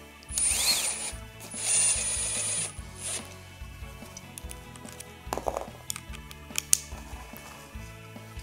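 A conventional screw is driven into wood as a test, with a close mechanical whir and ratcheting clicks in bursts, followed by scattered ticks and small knocks.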